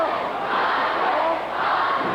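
A capacity crowd at a 1984 WWF professional wrestling arena shouts and jeers in a loud, continuous roar that holds steady with no break.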